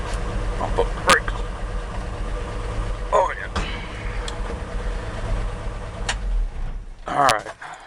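A 1960 Ford 223 engine idles steadily and close by with a low, even rumble, and someone briefly speaks over it.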